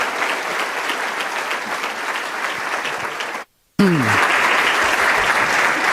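Audience applause welcoming a speaker to the stage, a dense sustained clapping that fills the room, briefly cutting out mid-clip before resuming just as strong.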